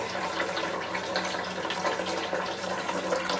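A steady rush of water pours continuously into a pot, a broad splashing stream close by with no talking, filling sparge water for stovetop all-grain homebrewing.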